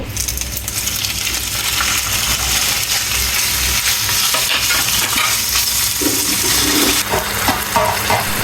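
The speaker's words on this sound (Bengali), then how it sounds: "মেরিনেট করে রাখা মাংসগুলো এখন আমি ভেজে নেব" Marinated meat frying in a pan for homemade pizza topping, a dense, steady sizzle that stays loud throughout, with metallic clinks and scraping from stirring near the end.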